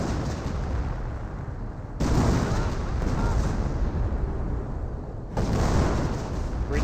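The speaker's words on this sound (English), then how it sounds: "Great damage from the shoot with a creeping barrage" In Company of Heroes, a creeping artillery barrage pounds the ground in a dense, loud roar of overlapping shell explosions, with heavier waves surging in at intervals.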